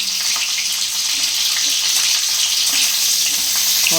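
Cauliflower fries in a pan with a loud, constant, close sizzle that holds steady for the whole stretch, with faint clinks and no talk.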